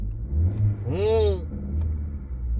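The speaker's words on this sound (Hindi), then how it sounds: "ये दबाया ना, इंजन की आवाज चेंज होगी।" A car engine revs up briefly as the accelerator is pressed, its pitch rising and falling over about half a second against a steady idle rumble, close by, with someone talking over it.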